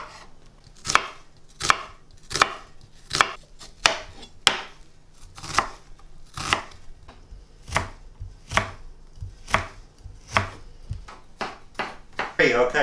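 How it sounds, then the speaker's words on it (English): An onion is chopped with a knife on a board, a series of crisp, evenly spaced blade strikes roughly every three quarters of a second, close and distinct, quickening slightly toward the end. "Okay, so we've chopped up our onion."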